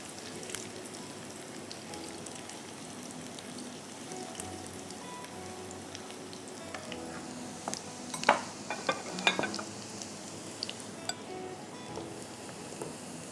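Prawns frying in oil in a pan, a steady sizzling crackle with occasional stirring clinks and sharper spatters building toward the middle, moderately close and without talk.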